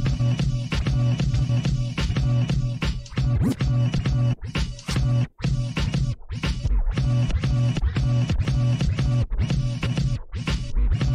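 DJ scratching on a DJ Tech DIF 1S scratch mixer over a beat, rapid rhythmic cuts and chopped bursts of sound with quick fader clicks, loud and continuous without talk.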